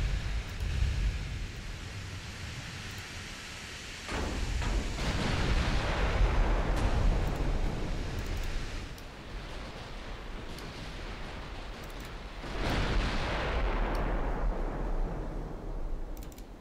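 Secondary guns on a warship firing in a naval video game, two heavy rumbling bursts of gunfire at about four and twelve seconds over a constant low roar, loud and broad.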